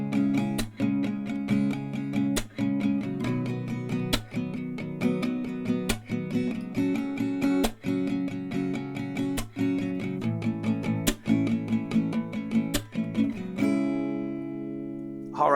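An acoustic guitar strums chords in a steady pattern of four down-strums, a sharp clap, then three more, repeating through the progression before a final ringing chord.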